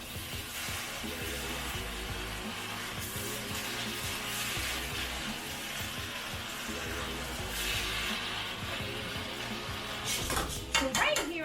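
Pasta stir-fry with vegetables sizzles in a pan while being stirred and tossed, with steady frying hiss, scraping utensil clinks toward the end, and a voice talking over it.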